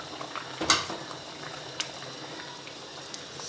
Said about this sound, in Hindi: हल्की आग पे साग बहुत ही अच्छा बनता है।